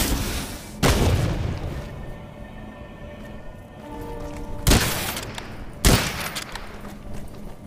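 Gunfire in the video game Witchfire: three sharp, loud blasts spread several seconds apart, each a sudden booming crack with a short decay, with quieter game ambience and faint tonal hum in between.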